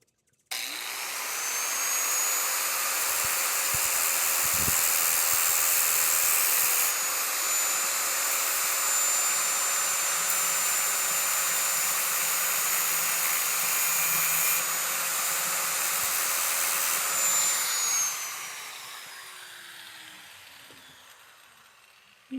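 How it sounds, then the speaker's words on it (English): A larger electric cutoff tool with a worn wheel slices through metal while making a hummingbird feeder ant moat, giving a loud, steady high-pitched whine that holds for about fifteen seconds before winding down. "I'm just gonna cut this off with my larger cutoff tool."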